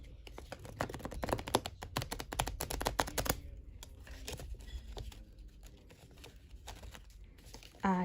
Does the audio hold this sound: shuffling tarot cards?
yes